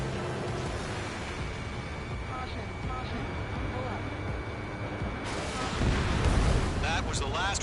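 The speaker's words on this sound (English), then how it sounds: "Anti-ship missile fire." Anti-ship missile fire and explosions in the combat flight video game Ace Combat 7, dull rumbling booms under steady jet roar, swelling into a heavier blast near the end, with radio chatter talking over much of it.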